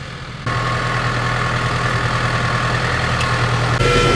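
A tractor engine runs steadily during mechanical vine planting with GPS guidance, a loud low idling drone close by with a constant hum, rising slightly near the end.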